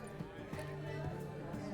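Horse hooves clip-clopping at a steady, rhythmic pace in The Witcher 3 as a rider sets off, with faint game ambience and a voice speaking beneath the hoofbeats.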